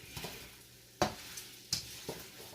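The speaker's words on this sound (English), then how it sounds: "I'm just going to continue to toss it around so I can get the coat on there" Beef strips for fajita burritos tossed and stirred in a hot pan, with a few distinct scraping, clattering tosses spaced about a second apart over a soft sizzle.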